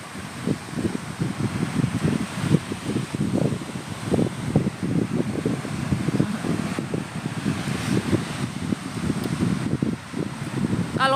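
Wind gusting against a microphone outdoors, a steady low rumbling buffet that surges and eases throughout, loud and close, with no voices over it.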